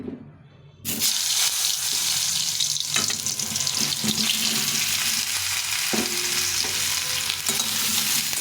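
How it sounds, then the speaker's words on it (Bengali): Potatoes frying in hot oil in a home kitchen, starting with a brief quiet moment, then a loud, sudden, continuous sizzle with occasional stirring scrapes, close and steady throughout. "তেলটা গরম করে নিলাম এরকম করে দিয়ে এখন আমি এই আলুগুলো ভেজে নেব প্রথমে"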